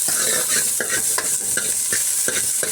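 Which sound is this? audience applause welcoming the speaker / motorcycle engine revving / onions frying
onions frying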